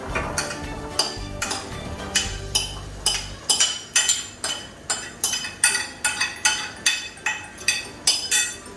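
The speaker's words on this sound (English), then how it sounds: "I'm going to add these marinated chole." Marinated chole tip into a hot pot on a medium flame: a brief low sizzle, then a steady run of sharp metallic clinks of a spoon on the pot, repeating about twice a second.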